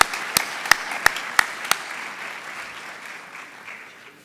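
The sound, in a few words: audience giving a loud round of applause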